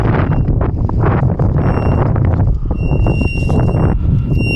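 Strong wind buffets the microphone in continuous gusty roars during outdoor metal detecting, with some faint high tones near the end.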